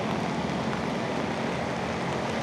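Steady rain heard while riding a motorcycle through Jakarta streets, a dense, even hiss of rainfall and rushing air with no breaks, loud and continuous throughout.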